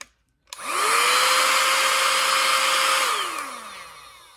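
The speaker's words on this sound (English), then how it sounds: "sounds just like a hairdryer." A motor whirs up quickly to a steady, loud whine with an airy rush like a hair dryer, holds for a few seconds, then winds down.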